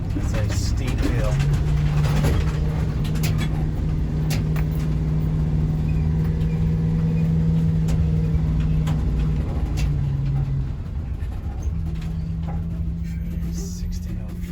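A pickup truck climbs a steep hill in a residential street, its engine droning steadily and close with a low labouring hum throughout, no talking heard.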